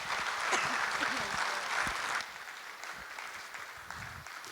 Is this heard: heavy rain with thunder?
no